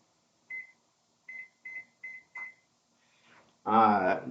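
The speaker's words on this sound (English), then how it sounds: "First thing, I'm gonna set the oven to 425." An oven control panel beeps as it is set to 425: five short, clear electronic beeps with brief gaps, followed by a person starting to talk nearby.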